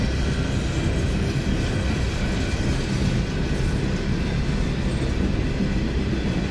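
A train runs past on the rails, a steady, loud rumble of wheels and wagons that holds without a break, with no voices over it.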